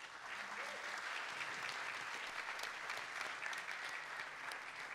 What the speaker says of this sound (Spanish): Un aplauso para Marjorie Mardones.